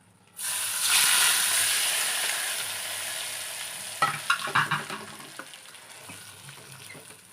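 Green chillies and curry leaves hit hot oil in a jackfruit dish with a sudden loud sizzle that slowly fades. A spoon then stirs and scrapes the pan in a run of close, uneven clinks. No voices.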